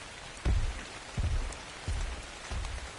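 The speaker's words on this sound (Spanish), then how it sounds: "Vale, ahora llueve." Rain in the video game ARK falls as a steady wash of drops, broken by soft low thumps every second or so, with no talk over it.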